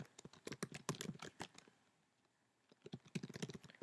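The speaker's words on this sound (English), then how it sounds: "Type in your school address" Quick bursts of computer keyboard typing as a school address is entered, close and quiet, with a short pause in the middle before the keystrokes resume.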